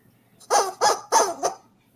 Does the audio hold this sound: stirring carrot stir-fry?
no